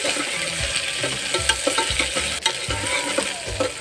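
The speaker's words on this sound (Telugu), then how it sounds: "బాగా గోల్డెన్ కలర్ వచ్చేంత వరకు వేయించుకోవాలండి" Curry leaves and two dried red chillies frying in a pan for palak carrot khichdi, a loud, dense crackling sizzle with rhythmic scraping of a spoon stirring throughout.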